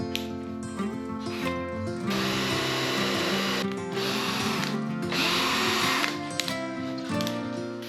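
Cordless drill driving screws into wood, several bursts of whirring motor over roughly eight seconds, loud and close, with short pauses and clicks between screws.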